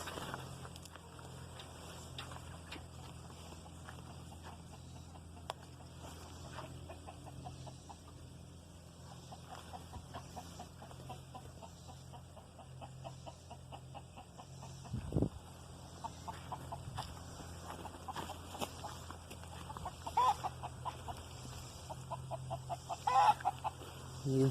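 Backyard chickens cluck softly in a permaculture garden, with scattered faint clucks over a low steady hum and occasional footsteps and rustling, growing a bit busier toward the end, with no one speaking.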